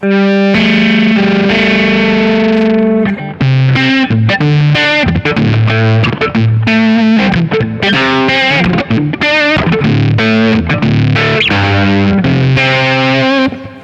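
An Anasounds Feed Me fuzz pedal drives a guitar into thick, saturated distortion: a sustained chord rings first, then choppy, squealing notes with oscillating feedback, loud and constant throughout.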